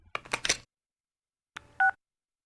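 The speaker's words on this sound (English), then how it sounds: "Oh, my phone." A phone in the Persona 4 video game gives a short two-tone electronic beep, dialing-style, after a burst of game voice or music, brief and close.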